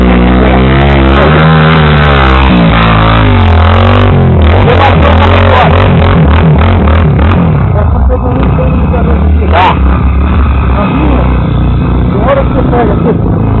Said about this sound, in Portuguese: Tá forte essa moto, hein?